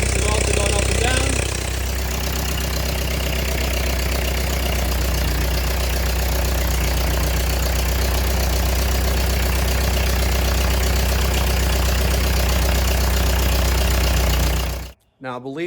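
A Ford 8N tractor idles close by with its PTO spinning, a steady loud low rumble that holds throughout before cutting off abruptly near the end.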